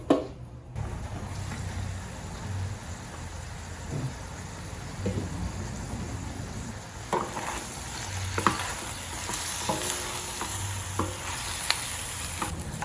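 Chicken wings adobo sizzling and frying in a covered pan, a steady crackling sizzle with scattered pops and occasional stirring clinks, close and continuous with no talk.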